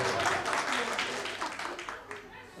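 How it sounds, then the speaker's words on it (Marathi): Scattered audience clapping at a 1989-batch school reunion, uneven and moderately faint, with brief speech-like sounds mixed in as the applause tapers off. "बर, जरा जोरदार टाळ्या."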